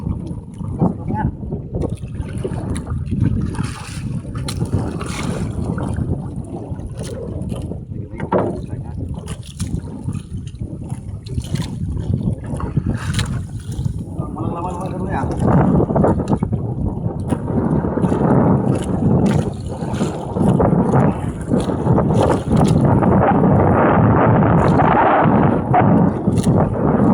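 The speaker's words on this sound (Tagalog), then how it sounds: "Medyo lumakas pa yung hangin" Strong wind buffets the microphone on a small fishing boat at sea, a loud continuous rumble that grows stronger toward the end, with someone talking over it.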